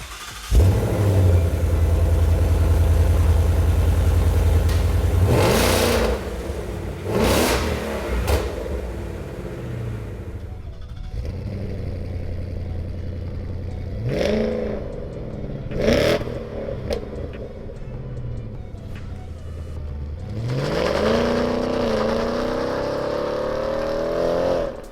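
Ford Mustang GT, 2018–2023 model, fitted with a Ford Performance by Borla Touring catback exhaust with quad tips, idling loudly then revved several times in sharp blips, deep rumble between bursts, close and alone without talk.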